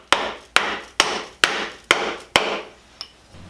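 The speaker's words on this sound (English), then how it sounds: "In order to do that, we just simply tap the wedge into place." Wooden wedge tapped into a foot-powered woodturning lathe to lock the tailstock: six sharp, evenly spaced knocks roughly half a second apart, then a lighter seventh tap, close and clear with no talking.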